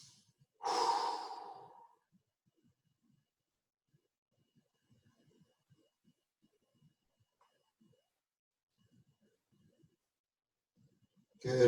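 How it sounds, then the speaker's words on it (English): A single deep exhale during a stretching session, fairly close and breathy, followed by long near-silence and another breath starting at the very end. "Big deep breaths in."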